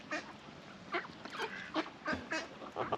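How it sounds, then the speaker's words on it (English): Ducks at a wild camp in Scotland give a run of quick, scratchy quacks and honks, close by and fairly faint, with no talk over them. "The ducks will come to say hello."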